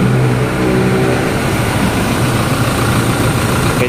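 A Toyota Fortuner engine idles steadily and close by, a low, even rumble that holds at a constant level with no clear start captured.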